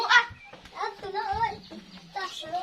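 A chicken clucks in a series of short, throaty calls near a village home, fairly close and clear, with pauses between phrases and some faint background activity.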